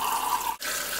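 Water runs from a kitchen tap over a raw whole chicken as it is rinsed inside and out, a close, steady rushing hiss broken by one brief dip where the stream is interrupted.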